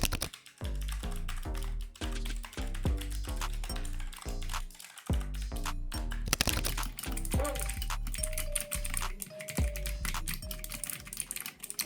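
Rapid, steady typing on a low-profile RGB gaming keyboard with blue switches, crisp clicky keystrokes, close and loud, continuing for several seconds with a brief pause partway through.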